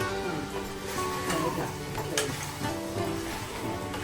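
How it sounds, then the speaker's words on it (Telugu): Ginger garlic paste and turmeric fry in hot oil for a crab curry, giving a steady, close sizzle with occasional stirring scrapes throughout. "పేస్టు పసుపు వేసి నూనె వేసి ఇది ఫ్రై అయ్యేటట్టు చూస్తున్నా"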